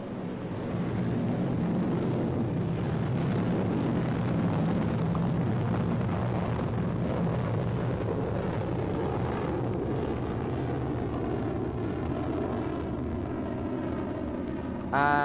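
A rocket launching in a Minecraft PE space add-on: a steady, loud, broadband roar runs continuously from start to finish with no pauses, ending in a brief burst at the very end.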